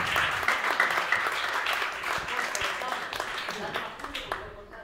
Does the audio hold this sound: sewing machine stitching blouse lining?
no